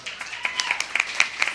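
A scattering of claps from a school board meeting audience, light and sparse, a few separate hand claps spaced irregularly over a quiet room rather than full applause.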